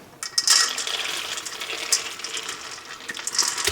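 Two pounds of dried split peas poured into a big pot of water, a close, bright patter and splash with a few sharp clicks of hard peas striking, continuous and fairly loud throughout.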